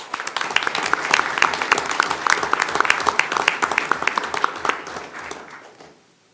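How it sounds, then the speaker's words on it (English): An audience at a school board meeting claps for a student being called up, a lively patter of many individual hand claps lasting several seconds, then tapering off to silence. "Y'all give Mariah a big round of applause."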